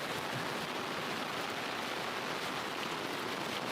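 Steady, dense rain hisses evenly throughout at a wilderness campsite, a continuous wash of drops on surfaces with no voices and no break in the downpour.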